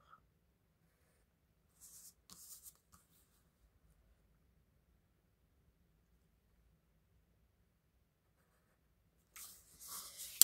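Scissors snip through paper borders in a few short, quiet bursts of crisp cutting, separated by long near-silent pauses, with a final louder run of snips at the end.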